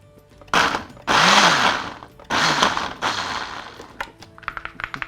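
A food processor pulsing in short bursts to rough-chop curry paste ingredients for a coconut fish curry: three loud whirring pulses with brief pauses, followed by rattling and clattering as the bowl is handled.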